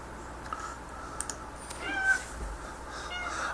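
A cat meows faintly a couple of times in a quiet room, with a few soft clicks in the background.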